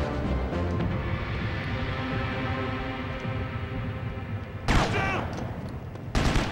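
Gunfire in the PS2 game Sniper Elite, a steady rattle of distant shots under game ambience, with two sharper, louder bursts near the end.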